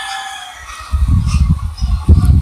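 A flock of native country chickens on a poultry farm housing about two thousand birds clucks and calls in dense, overlapping bursts that start after a quiet opening second and grow louder and busier toward the end.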